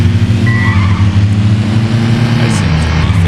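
Car engine drones steadily in the Midtown Madness 2 video game while a tire squeal cuts in briefly, with someone talking over the driving throughout.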